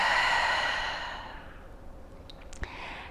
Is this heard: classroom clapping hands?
no